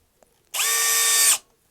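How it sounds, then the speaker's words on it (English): A single short burst of a cheap Makita-clone 18V brushless cordless drill spinning at a steady high whine on low gear, drilling into wood without a pilot hole, close and loud, under a second, with silence around it. "we're just drilling it straight into the wood."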